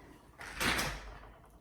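A door opens close by with a short rattling push and a broad whoosh of wind lasting about a second, heard alone over soft background noise.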